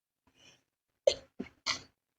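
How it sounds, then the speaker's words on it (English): A single person sneezes indoors: a faint breathy intake, then a sharp burst and a couple of short trailing bursts, close and fairly quiet. "suddenly had the urge to sneeze"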